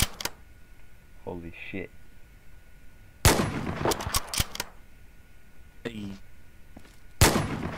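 Gunshots in Garry's Mod, a WWII Soviet roleplay game: a few sharp single shots and a quick burst of several close cracks, spaced apart over a quiet background, with people talking in between.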